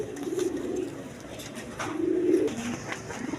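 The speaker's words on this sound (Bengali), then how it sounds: "এখানে এক পেয়ার চুল্লি কবুতর আছে" A pair of male Chulli pigeons coo nearby in low, throaty phrases, two drawn-out coos with a third starting at the end, heard alone over faint background noise.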